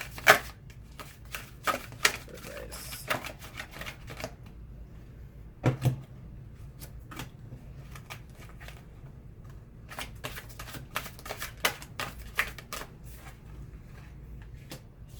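Tarot cards being shuffled for a reading make repeated soft riffling and tapping bursts, close and quiet, with short pauses between shuffles.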